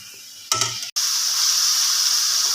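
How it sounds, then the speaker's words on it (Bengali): Dried red chillies and whole garlic cloves fry in oil for an eggplant bharta: a short clatter as they go into the pan, then a loud, steady sizzle that fills the rest. "শুকনো লঙ্কা আর রসুনটা একটু ভাজা ভাজা হোক"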